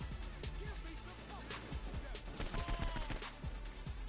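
Rapid gunfire from the Saints Row 4 video game, a busy burst of repeated shots layered with game sound effects and music across the whole stretch, with a player's voice talking over it.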